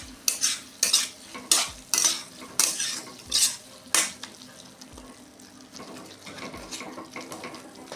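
A spoon knocks and scrapes against a pan in a quick run of about eight clinks, then settles into softer, wetter stirring as boiled potato is mashed into gravy.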